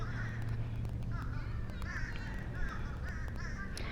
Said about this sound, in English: I wonder what the geese are talking about.